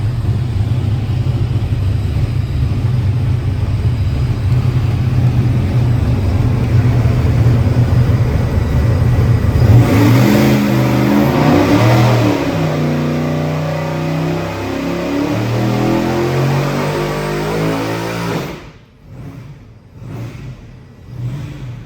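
A twin supercharged LS V8 engine making a pull, revving into a loud sustained rumbling whine that climbs and holds at high rpm, then drops off sharply as the throttle closes near the end, with no voices.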